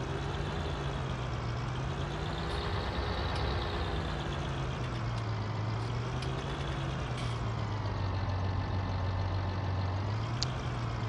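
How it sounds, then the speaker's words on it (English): A Fendt 1050 tractor engine idling in a farming video game, a steady low rumble with a slowly wavering pitch, continuous and fairly loud with no talk. "What is that tractor next to us?"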